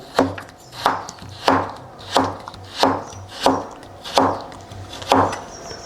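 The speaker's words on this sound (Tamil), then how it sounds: "அடுத்து கேரட்டையும் காமிக்கிற மாதிரியே குட்டி குட்டி பீசஸாக கட் பண்ணி எடுத்துக்கிறோம்" Kitchen knife chopping a carrot into small pieces on a board, about eight steady, evenly spaced cuts, close and fairly loud with no talk.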